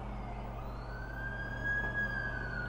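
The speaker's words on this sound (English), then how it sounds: "That's the ambulance I called." A wailing ambulance siren in The Amazing Spider-Man 2 video game, a steady rising-and-falling tone that holds at moderate distance for a few seconds over a low engine-like rumble, with no talking.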